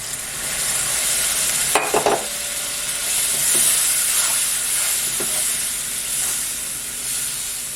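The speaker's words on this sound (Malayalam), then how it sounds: "ഈ ചൂടുവെള്ളം നമുക്ക് ഇതിലോട്ടാണ് ഒഴിച്ചു കൊടുക്കാം." Hot water goes into a pan of sizzling chicken masala and is stirred, producing a loud continuous steamy hiss with a few brief scrapes and knocks of the spoon, close up and without speech.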